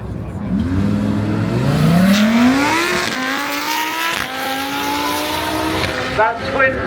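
A twin-turbo Lamborghini launches hard. Its engine pitch sweeps steeply upward, then it shifts and keeps pulling loudly into the distance.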